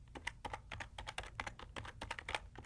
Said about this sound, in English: And in the expression field, I'll type in country list.